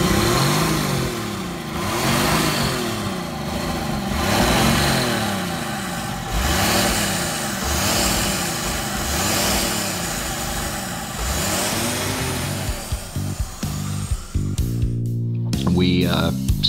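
A 1953 Dodge pickup truck engine running and revving repeatedly, loud cyclic swells rising and falling over many seconds up close, with voices talking near the end.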